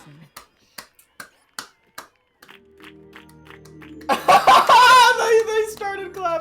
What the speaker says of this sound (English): They started clapping too.